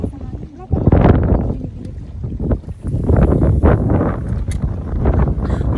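Strong wind buffets the microphone on a boat out on Jackfish Lake near Norman Wells, a continuous loud rumbling blast that swells and drops, with a voice speaking under the gusts.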